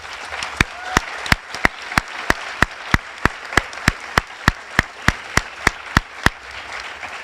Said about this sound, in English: I would also like to get another round of applause for these amazing folks